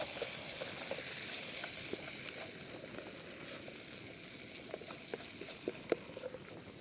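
Olive oil and garlic granules sizzle in a camping pan, a steady close hiss and crackle with scattered small pops and no talking.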